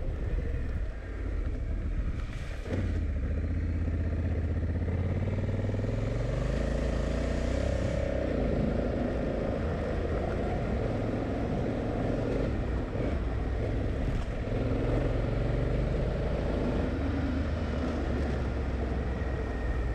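A Honda Africa Twin DCT motorcycle in S1 mode is ridden standing along a bumpy off-road track, its engine droning steadily with rising and falling revs beneath heavy wind buffeting on the microphone.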